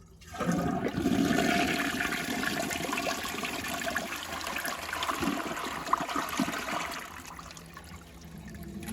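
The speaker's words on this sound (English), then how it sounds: "So here's a flush." A Jacuzzi Perfecta toilet flushes with a loud, close rush of water that holds steady for several seconds, then thins into a quieter trickle as the bowl refills.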